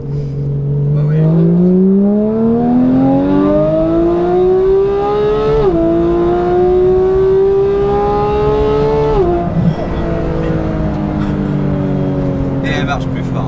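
A Porsche GT3 with a new aftermarket exhaust and HRE wheels revs hard, the engine note climbing and holding, then dropping with a crackle as the throttle lifts; loud and close, with brief voices in the background.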